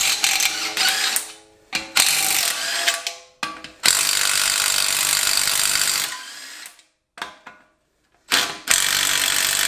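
A ratchet clicks rapidly in long bursts with brief pauses between them, close and loud, like a socket wrench spinning bolts loose during a Nissan 240SX rear brake disassembly.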